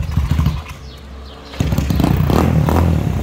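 A motorcycle fitted with an OHC 70mm kit kicks to life with a clattering start, drops briefly to a lull, then barks into loud, rough revving close by.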